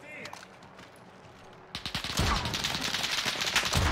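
Warzone gunfire starts suddenly after a quiet stretch: fast, loud bursts of automatic fire and rattling shots that go on to the end, with a little talk underneath.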